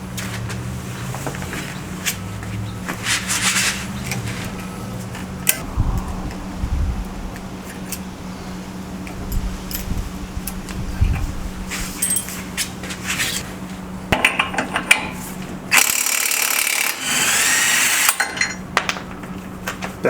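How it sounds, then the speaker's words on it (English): Tools working on a Toyota Corolla 7AFE wheel hub to remove a cotter pin and a 30mm axle nut, with close metallic clinks, scrapes and ratcheting, ending in a louder sustained mechanical whir. "Now we're ready to remove the Carter key and the 30mm nut from the end"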